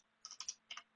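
Quick bursts of keystrokes on a computer keyboard while entering router configuration commands, two clusters of close, crisp clicks with a short pause between them.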